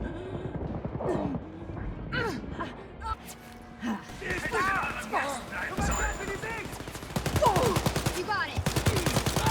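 Gunfire in the video game Wolfenstein Youngblood, rapid bursts of shots crackling through the clip, loudest in dense volleys near the end, mixed with game voices and player chatter.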